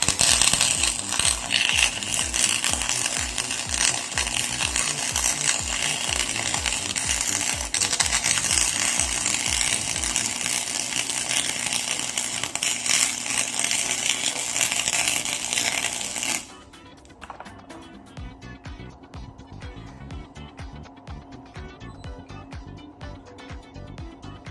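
Flux-core welding machine running a bead across automotive sheet metal, a loud steady crackling buzz for about sixteen seconds that stops abruptly, leaving quieter sporadic ticking and faint noise.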